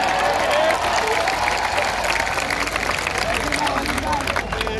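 Applause from the crowd at a Hindi poetry recital during a Dussehra fair in Chittorgarh, a broad wash of clapping and crowd noise running throughout with someone talking over it.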